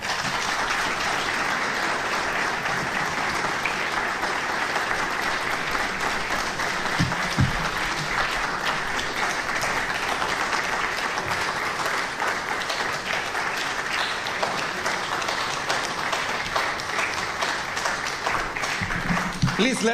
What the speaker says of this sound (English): you have received a standing ovation for giving us a very comprehensive state of the region.